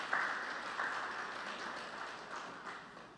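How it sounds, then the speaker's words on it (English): Audience applause at an advertising agencies' annual general meeting, a faint, steady patter of clapping from a hall crowd that slowly tapers off. "a round of applause for him, please"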